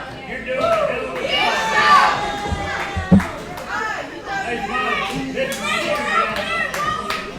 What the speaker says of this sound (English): The crowd really not happy with Smiley after that last match.